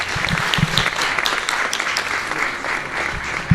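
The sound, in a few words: applause for the painters Ranno and Ribaudo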